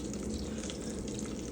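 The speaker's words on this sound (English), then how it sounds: "You can see the butter is melted and starting to bubble up" Kerrygold butter melting and bubbling in a pan, a steady close sizzle with a soft watery crackle throughout, no voices.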